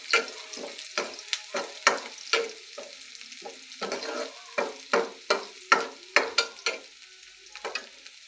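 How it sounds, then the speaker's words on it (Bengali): Chopped onion, garlic and chili fry in a pan while a utensil stirs, making a series of distinct scraping strokes in an uneven rhythm over a faint sizzle. "দেখো, পেঁয়াজগুলো ভাজা হয়ে গেছে"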